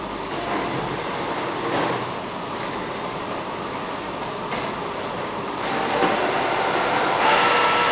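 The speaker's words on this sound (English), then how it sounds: "Okay, you can see that's very fast printing" A printer running a fast print job makes a loud, continuous mechanical rattle and whir that swells slightly in the last few seconds.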